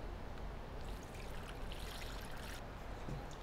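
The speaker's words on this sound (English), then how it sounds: "Go ahead and pour our marinade in." Marinade pours into a freezer bag of whole chicken wings, a steady soft liquid trickle heard alone at low level.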